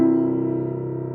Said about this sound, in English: it's beginning to sound like a chord now